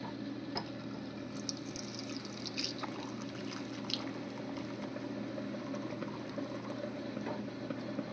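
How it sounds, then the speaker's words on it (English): Hot coffee poured over homemade rolling pin ornaments, giving a soft, continuous trickle with scattered drips and splashes over a faint low hum, fairly quiet and close. "So we'll add some coffee."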